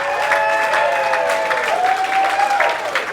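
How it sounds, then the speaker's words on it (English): A crowd cheers and applauds loudly and steadily after a goal at an All-Asian Cup match at RMIT Saigon, a dense roar with whistles rising over it throughout. "the crowd erupts here at RMIT Saigon"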